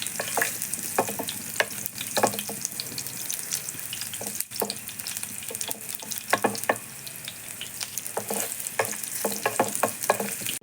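Garlic fries in hot oil for a home-style Kerala mezhukkupuratti, giving a steady close-up sizzle broken by quick scraping stirs of a spoon against the pan, with no talking.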